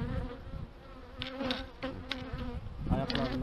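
Honeybees at a beehive give a steady close buzzing hum with individual bees droning past the microphone, moderately quiet, with no talk.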